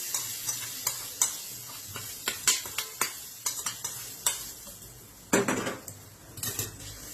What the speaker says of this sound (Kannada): ಅದಕ್ಕೆ ಒಗ್ಗರಣೆ ಹಾಕ್ತೀನಿ